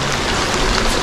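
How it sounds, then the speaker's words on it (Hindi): Heavy rain pours steadily on a Himalayan mountain trek between Kedarkantha and Tungnath, a dense, continuous loud hiss with no break across the short moment. "बहुत ज्यादा बारिश पड़ रही है यहाँ पे"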